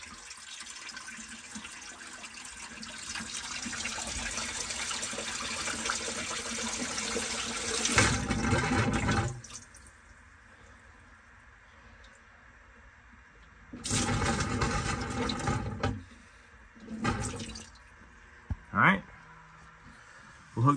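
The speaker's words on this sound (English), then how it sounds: "I just take the hose and I blow air into it and try to get all the water to go out of the heater core and into the bilge" Air-blown water gurgling and splashing out of a heater core hose into the bilge of a Nautique boat during winterizing, coming in several loud bursts with quieter pauses between.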